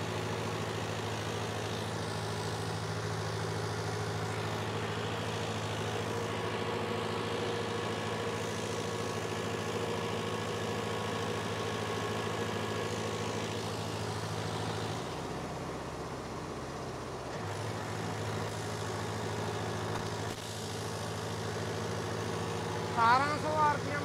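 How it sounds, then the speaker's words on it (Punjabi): A Mahindra Arjun 605 DI tractor diesel engine, with its fuel pump modified for turbo power, runs steadily at about 1200 RPM as an even, droning hum with a brief dip partway through. "1200 ਆਰਪੀਐਮ ਤੇ ਹੀ ਟਰੈਕਟਰ ਚਲਾ ਰਹੇ ਆਪਾਂ।"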